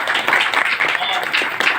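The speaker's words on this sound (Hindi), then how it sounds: "इनके लिए मैं चाहता हूँ जोरदार तालियां" Audience applause at a speech gathering, a dense, loud burst of many people clapping close by, sustained with slight swells in intensity.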